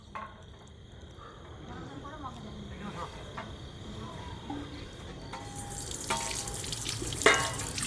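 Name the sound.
hot water running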